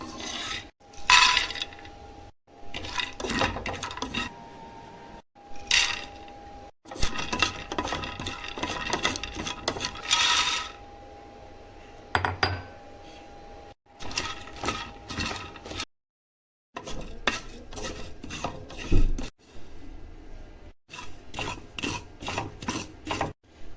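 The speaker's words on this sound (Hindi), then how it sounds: "इन सब चीज़ों को करेंगे ड्राई रोस्ट। ऑयल बिल्कुल भी नहीं डालेंगे, हर चीज़ को हम करेंगे ड्राई रोस्ट।" Poppy seeds and other ingredients dry roasting in a pan with no oil, producing continuous rough scraping and rasping from stirring, broken by short pauses and set against a faint steady hum.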